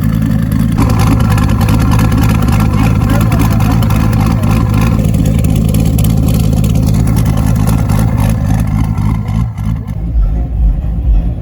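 A Chevrolet Silverado truck with 1000 cc injectors and dual 450 fuel pumps runs with a loud, low engine rumble that rises and falls steadily, close up throughout, with a brief drop near the end.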